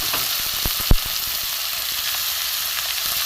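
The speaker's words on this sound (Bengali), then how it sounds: "চিংড়ি মাছটা অল্প ভাজা ভাজতে ভাজতে এটাও ভাজা হয়ে যাবে চিংড়ি মাছটাও ভাজা হয়ে যাবে" Grated radish fries with prawns in a hot pan, giving a steady, bright sizzle broken by a few sharp clicks of stirring, close and alone.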